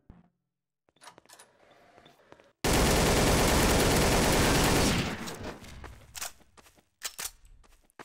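Video game gunfire in a Trouble in Terrorist Town match erupts as a loud, sustained automatic burst lasting about two seconds, followed by scattered single shots and clicks, with no talking.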